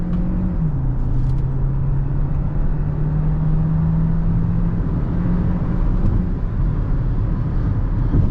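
A 2025 Hyundai Tucson Hybrid's 1.6-liter turbo four drones steadily from inside the cabin during a drive, a low engine hum with road rumble that holds an even pitch after a brief dip, loud and continuous throughout.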